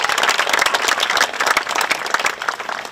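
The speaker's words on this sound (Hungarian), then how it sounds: "Nagy-nagy tapsot kérjük neki." An audience at a horse-riding contest applauds a contestant, a dense and loud wash of many hands clapping continuously from close by for about three seconds.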